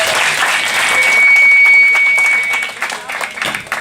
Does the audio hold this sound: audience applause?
yes